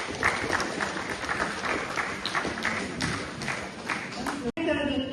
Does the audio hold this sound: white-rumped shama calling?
no